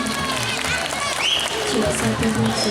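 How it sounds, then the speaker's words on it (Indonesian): An audience claps steadily throughout, a dense patter of applause with people talking and a voice rising over it. "Nunas tepuk tangan"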